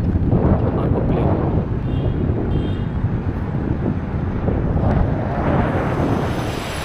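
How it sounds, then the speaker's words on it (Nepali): An airplane passes over an evening walking area in Taiser, Jeddah, a broad, steady rumbling roar that holds loud for several seconds, mixed with wind buffeting the microphone. "अर्को प्लेन"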